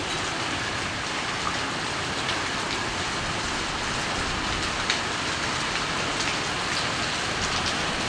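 Heavy typhoon rain pours down steadily on a flooded street, a dense constant hiss of water drumming on hard ground with no pauses.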